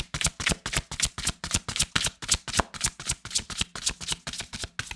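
Tarot cards being shuffled by hand, a quick steady run of riffling flutters repeating rhythmically for several seconds, close and fairly loud with no speech over it.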